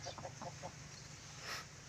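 A native hen with her chicks gives several soft clucks and peeps close by, followed by a brief brighter call, all over a steady low farmyard hum with no talking.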